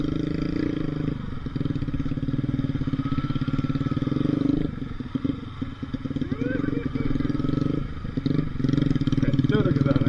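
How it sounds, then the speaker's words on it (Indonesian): A custom modified motorcycle rides a rough footpath track, its engine a close, continuous clattering putter with brief dips, while people talk over it. "Ini motor modif custom juga bisa."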